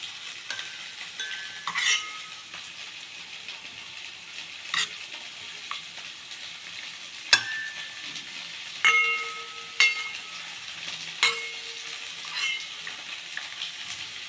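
Vegetables fry in a pan for a mixed-vegetable sambar, with a faint constant sizzle beneath intermittent, sharp scraping strokes of a stirring spoon at irregular intervals.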